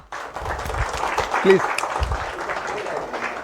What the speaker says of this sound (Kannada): ಈ ಡ್ರಾವನ್ನು ನಾವು ಎಲ್ಲರೂ ಸೇರಿ ಚಪ್ಪಾಳೆಯ ಮುಖಾಂತರ ಸ್ವಾಗತಿಸೋಣ